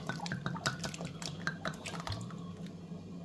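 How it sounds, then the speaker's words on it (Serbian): Half a litre of homemade tomato poured into a pot of bean stew, giving wet splashing drips and squishy liquid sounds close by over a low background hum. "Sipat ćemo pola litre paradajza."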